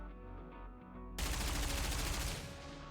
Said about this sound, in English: gunfire rains down from the other side